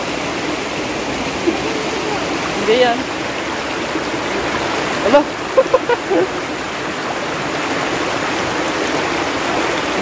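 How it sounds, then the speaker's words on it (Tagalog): A strong river current rushes loudly and steadily through a shallow crossing, with a few brief voices speaking over the continuous flow. "Medyo malakas lang yung agos."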